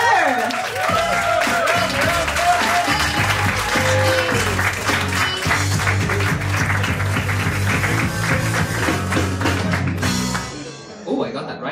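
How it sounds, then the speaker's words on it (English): Comedy club audience applauding and cheering as a comedian takes the stage, dense sustained clapping with crowd noise and music underneath, fading near the end. "So giving a big round of applause for Fer."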